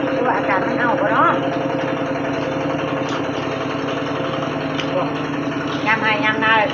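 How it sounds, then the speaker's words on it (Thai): A tractor's engine drones steadily in the background of a rural Thai home, a low, continuous hum running under people talking throughout. "จนค่ำจนมืดยังมีเสียงรถไถ"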